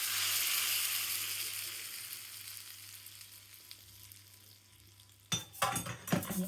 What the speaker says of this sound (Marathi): तेल गरम झालं आहे, त्यामध्ये आपण टाकू मोहरी आणि आता हा तडका आपण यावरती ओतून